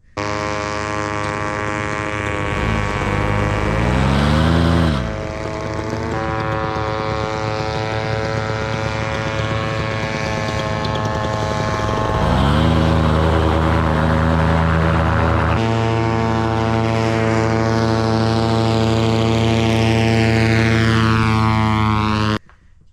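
A small propeller airplane engine with an exhaust problem drones loudly and steadily, its pitch shifting as power changes, close by throughout.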